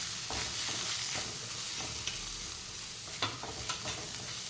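Red chili powder, Kashmiri chili and garam masala fry in a pan while a spoon stirs and scrapes, a steady soft sizzle broken by a few sharp scraping clicks, with no voices.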